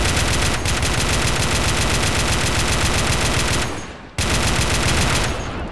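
Dense, continuous machine-gun and rifle fire in a Red Rising Iraq War 2003 mod battle, loud and close, with rapid overlapping bursts that cut out briefly near the end before resuming.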